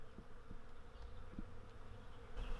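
Bees swarming an avocado tree outdoors make a steady, low, continuous drone throughout, faint and unbroken, with no voices.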